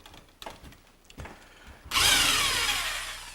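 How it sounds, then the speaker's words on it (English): A power drill bores pilot holes into a wall stud in a garage, starting with a few light clicks and taps, then a loud close whirring bite into wood that slowly winds down. "He's drilling a couple of pilot holes where he's marked it with a template."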